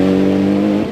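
A Group A Mitsubishi Lancer rally car at the 1994 Rally of New Zealand, its engine holding a loud, steady, close drone that drops away as the clip ends.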